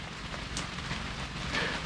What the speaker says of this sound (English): check out this for some gloomy, rainy weather